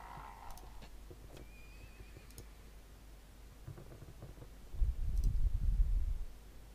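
Horses neighing in the game Eador Genesis: a whinny at the start, then a louder, rumbling neigh with hoof-like thuds near the end, over quiet background noise.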